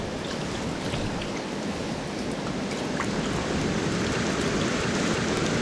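Rain falls on a mountain stream in the Pennsylvania mountains, a steady, dense hiss of water that holds level throughout, close and continuous, with no voices.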